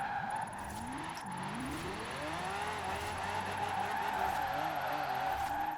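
A Lamborghini supercar drifts in Forza Horizon 4 with a sustained engine drone whose pitch sweeps up and down through gear changes, mixed with tyre skid squeal at a fairly low level.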